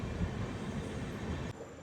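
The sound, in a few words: Seshadri Express LHB train at Kaikaluru station platform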